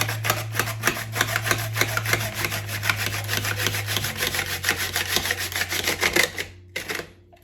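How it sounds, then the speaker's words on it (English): A carrot being grated on a Tupperware kitchen grater, with rapid, regular rasping strokes repeating close up for several seconds, under a faint low hum, then stopping. "I have the grater here now, and I'm just going to grate up the carrot."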